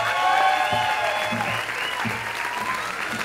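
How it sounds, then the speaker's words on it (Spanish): An audience in a comedy show's studio breaks into sustained applause, dense close clapping that swells then tapers slightly, with faint voices underneath. "Un aplauso más fuerte para toda la mesa de la logia."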